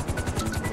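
Helicopter in GTA Online, a steady rhythmic rotor thump with a whining engine drone, loud and close, with no talk over it.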